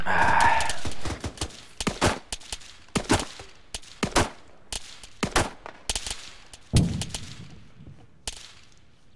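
Rifles and other weapons fire in the video game Arma 3, with repeated sharp gunshots in irregular bursts and single cracks. Some shots are close and loud while others sound more distant across the battlefield.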